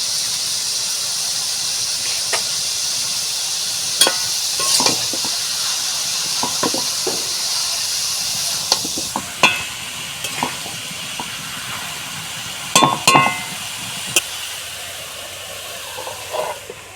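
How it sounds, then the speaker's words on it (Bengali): Shredded cabbage with chicken skin fries in a pan while being stirred: a steady, bright sizzling hiss runs throughout, broken by occasional sharp utensil scrapes and clicks against the pan, with no talk. "ঢাকনাটা তুলে একটু নেড়ে দেবো। নাড়াচাড়া করে দিচ্ছি।"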